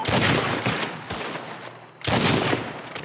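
Rapid bursts of gunfire in the Western video game Red Dead Redemption 2, loud and dense with overlapping shots, briefly dropping to a quieter lull before another heavy volley erupts.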